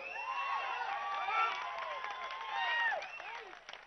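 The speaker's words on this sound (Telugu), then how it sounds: "ఈ మీ రెండు చేతులు ఎత్తి చప్పట్లు కొట్టి ఈ వ్యక్తిని మీరు ఆదరిస్తున్నారు" Crowd noise swells at an outdoor political rally on a YSRCP bus yatra in Peddapuram, with a mass of voices cheering and shouting in two louder surges, and a patter that may be clapping buried underneath.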